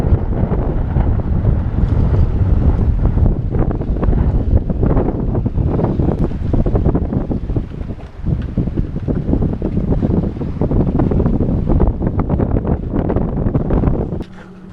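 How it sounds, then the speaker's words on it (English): Strong wind buffeting a sailboat at anchor in the Bahamas, a loud continuous low rumble with gusty swells and heavy microphone wind noise, easing near the end. "It's a little windy."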